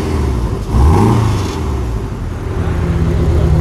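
A Porsche 718 Cayman engine in sport plus mode gives one sharp throttle blip that rises and drops back to a rumbling idle, close and loud.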